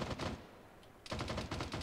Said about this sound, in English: You're taking tracer fire